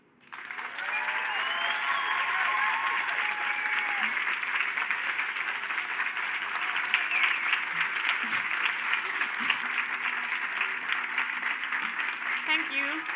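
Sustained, loud applause from a festival audience fills the hall after a talk, a dense steady wash of clapping with scattered cheers and voices mixed in, holding level throughout.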